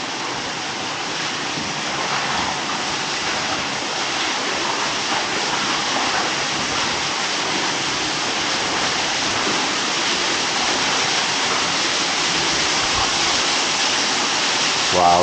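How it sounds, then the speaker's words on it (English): Underground waterfall in a mine chamber, a loud, steady rushing roar of falling water filling the space continuously with no breaks. "look at the waterfall"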